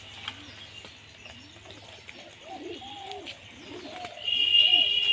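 Pigeons cooing up close in a loft, several soft rolling coos in irregular succession with faint chirps and a brief high squeak near the end.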